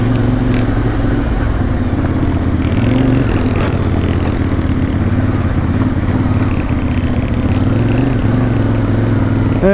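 A CF Moto 450MT or Honda CRF 300 Rally adventure motorcycle being ridden, its engine droning steadily and loudly throughout with low rumble and some clatter, no talk.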